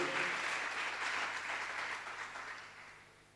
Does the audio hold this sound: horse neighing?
no